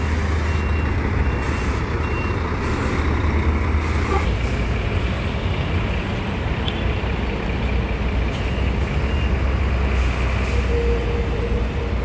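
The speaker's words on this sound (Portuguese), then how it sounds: "tá que chega ônibus aqui" Buses arriving and idling at the Belo Horizonte bus station, a heavy low diesel rumble filling the terminal with repeated reversing beeps and faint air-brake hisses layered over the steady engine noise.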